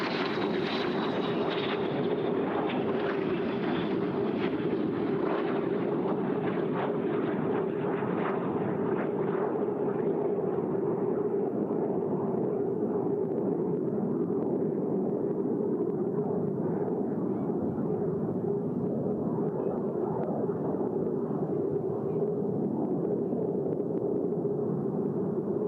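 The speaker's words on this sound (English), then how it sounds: "the T-33 will fly some aerobatics for us" T-33 jet performing aerobatics at an air show, a sustained loud roaring engine rush that slowly fades and dulls as the aircraft moves away.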